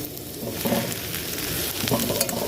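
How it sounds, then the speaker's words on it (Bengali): Boiled potato frying with onion, grated ginger and coriander leaves, a close, steady sizzle broken by clattering scrapes and knocks of a spatula stirring the pan. "এবার ভালো করে নেড়ে চেড়ে ভেজে নেবো"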